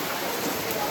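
Heavy storm rain pours down in a steady, dense hiss with no breaks, loud and close, filling the whole moment.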